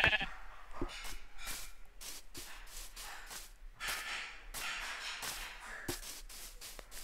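Sheep in a Minecraft world bleat repeatedly in short, close calls, joined by crisp clicks and thumps of game actions in a busy rhythm.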